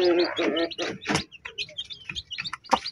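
Six newly hatched chicks in a large cage give repeated high, thin peeps, close and fairly clear, with a voice speaking briefly at the start.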